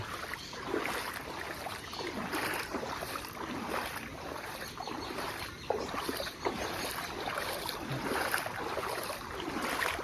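Steady broadband rush of floodwater flowing fast along a road in Nepal, continuous and fairly loud throughout, with occasional louder surges.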